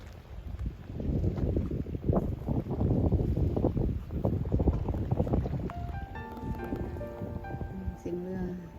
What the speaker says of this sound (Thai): เสียงเรือ